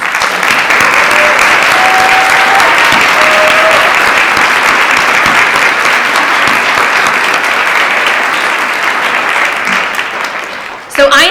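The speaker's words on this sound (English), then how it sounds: "Let's give them all a round of applause." Loud, sustained audience applause at a peace oratorical contest, a thick continuous roar of clapping that slowly tapers near the end before a voice briefly cuts in.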